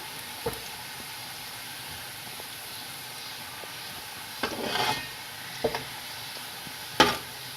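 Onions frying in oil until light brown give a faint, quiet sizzle close by, broken by a few scraping stirs of a spoon against the pan.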